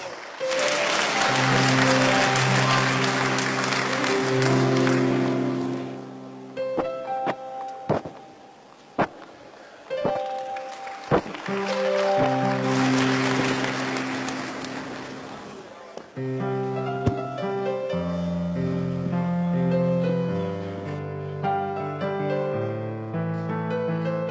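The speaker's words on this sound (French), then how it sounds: "Applaudissez." Audience clapping at a French-language ceremony honouring a national champion, swelling in two long bursts mixed with loud held musical tones and sharp hits.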